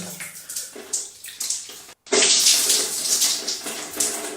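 Water is poured from a small container for a shower in Morocco, a splashing gush in short bursts, then a brief pause and a louder, sustained pour.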